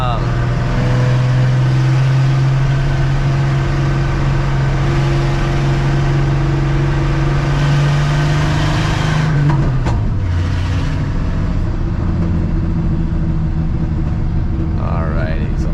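Exhaust and engine of a 1967 Ford F250 truck driving on the highway, a loud steady droning rumble from inside the cab that shifts pitch partway through as the truck slows.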